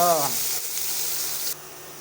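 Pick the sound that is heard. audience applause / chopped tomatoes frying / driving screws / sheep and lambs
chopped tomatoes frying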